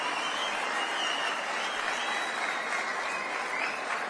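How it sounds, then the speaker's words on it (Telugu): An audience at a government event breaks into steady, sustained applause for a minister, a dense clapping that holds evenly throughout. "గట్టిగా ఒకసారి చప్పట్లు కొట్టి all of you appreciate minister now."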